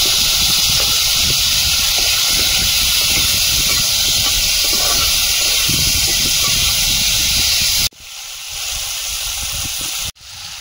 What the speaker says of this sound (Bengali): তেলে চিনিটা দিয়ে দেবো।